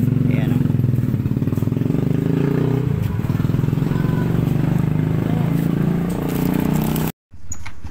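A Yamaha Sniper 150 motorcycle engine runs steadily close by with a continuous rattling drone, then briefly cuts out near the end before picking up again.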